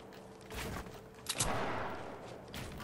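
Gunfire in Red Dead Redemption 2 crackles as a few quick, faint shots from a distance, irregular bursts over a low background.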